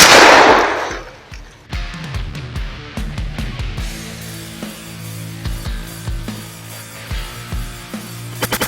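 A 12 gauge shotgun fires birdshot at a Kevlar-reinforced Iron Man helmet from 20 meters, a single sharp, loud blast at the start followed by echoing rumble and scattered clatter.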